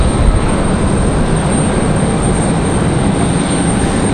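Lufthansa airliner inbound from Frankfurt at Raleigh-Durham, a loud steady wash of jet engine noise filling the short stretch without any talking.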